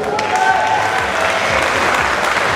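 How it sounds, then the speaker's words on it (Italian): Audience applause at an Italian blues concert, a steady, fairly loud wash of clapping throughout with a few faint tones and a voice underneath. "Grazie, un grande applauso."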